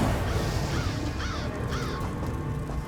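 Crows cawing in Elder Scrolls Online's Clockwork City, three hoarse caws spaced about a second apart over a loud, steady ambient wash of game background sound.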